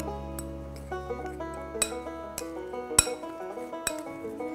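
Spoon clinking repeatedly against a bowl while fenugreek powder is mixed with hot ghee for methi laddu, sharp irregular taps over faint sustained background tones.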